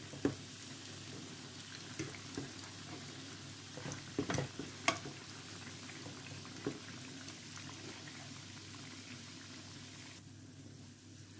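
Nutella pancake bites fry in a pan, a quiet, steady sizzle with occasional soft clicks and light scraping taps of a utensil, close by with no talking.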